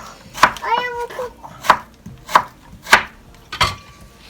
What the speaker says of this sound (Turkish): patateslerimizi böyle küp küp doğrayalım, çabuk kızarsın